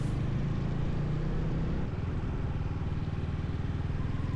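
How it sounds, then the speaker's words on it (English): Mack Rex motorcycle riding with a group through Sheffield city streets: a loud, steady engine drone with a throbbing pulse throughout, heard up close and with no voices. "Rolling away from Barker's Pool and out through the city streets, the sound of the ride quickly filled the centre of Sheffield"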